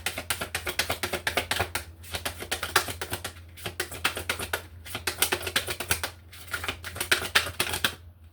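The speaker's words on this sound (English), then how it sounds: "Let's get some cards out with Tulsi." Tarot cards are shuffled and drawn in dense, rapid runs of crisp clicking flutters. The runs come in repeated bursts with brief pauses between them, close and fairly quiet.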